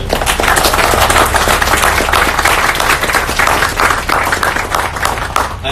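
A dense, steady burst of audience applause at an event at Howard University, many hands clapping loudly and continuously with no pauses.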